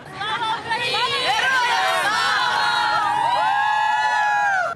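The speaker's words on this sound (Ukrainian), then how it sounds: "Такі заклики американського лідера зривають оплески серед присутніх лідерів держав і серед простих поляків та українців" Crowd gathered in a public square in Poland with Ukrainian flags, cheering and chanting loudly, many voices shouting and whooping together in a sustained, excited roar.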